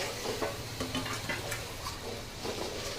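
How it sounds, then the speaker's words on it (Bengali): Onion paste spice mix stirred and fried in a pan, faint soft sizzling with scraping stir strokes repeating irregularly. "যতক্ষণ না মশলাটা বাদামি কালার না হয় তত সময় ধরে আমি মশলাটা কষাবো।"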